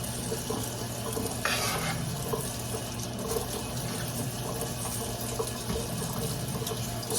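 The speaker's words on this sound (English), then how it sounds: "I let water run on them just to kind of rinse them good" Tap water runs steadily into a kitchen sink over cabbage leaves being rinsed, a continuous close splashing stream with no talking.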